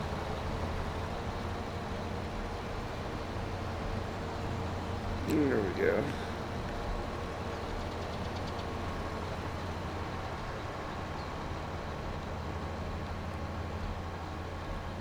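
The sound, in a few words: lawn tractor engine in video game Farming Simulator 22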